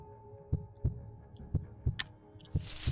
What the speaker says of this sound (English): so the heartbeat indicates if something's near